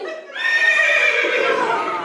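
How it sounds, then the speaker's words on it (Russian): A horse neighs in one loud, drawn-out whinny that rises and then trails off. It is close and clear, with no other sound over it. "конь подошел к Кощею, наклонился и поцеловал."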